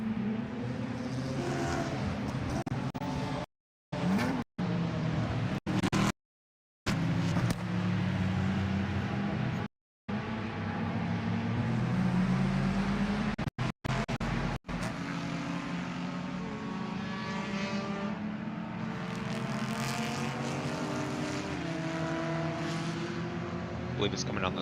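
A BMW race car on the Barber circuit during a WRL endurance race, engine drone rising and falling at a distance, broken by brief dropouts, with commentators talking over it.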